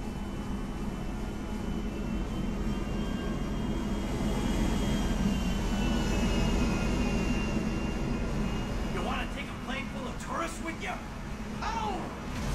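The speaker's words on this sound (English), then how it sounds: "Why would that plane's jet be on when it was parked?" A parked plane's jet engine idles in Grand Theft Auto 5, a steady loud whine and roar running throughout the clip, with game sounds and chatter rising near the end.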